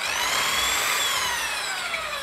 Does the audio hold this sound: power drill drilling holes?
yes